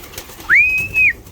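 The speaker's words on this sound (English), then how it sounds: "this little group of birds, I love them at this age" Young pigeons gathering for food give a single clear rising whistle-like call that holds steady for about half a second before falling away, fairly close and loud against a quiet outdoor background.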